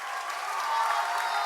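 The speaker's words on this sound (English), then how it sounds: "Can we have another round of applause" A brief burst of audience applause mixed with crowd noise and cheering at a live show, a steady dense wash that holds level and swells slightly.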